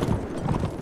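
Brief quick patter of horse hooves from Mount & Blade: With Fire and Sword, a few soft clip-clop steps in rapid succession, fairly quiet and alone.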